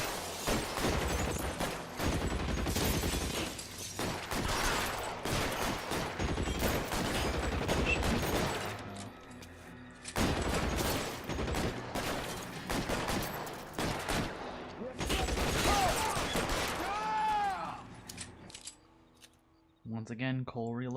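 Gunfire in the L.A. Noire video game, repeated bursts of shots in loud clusters with short pauses between, mixed with voices talking and game sounds, fading out near the end.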